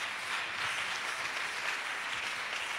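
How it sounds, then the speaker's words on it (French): A church congregation applauds steadily during a praise and worship service in Abidjan, a dense wash of clapping at moderate distance that holds even for a few seconds. "Acclamation."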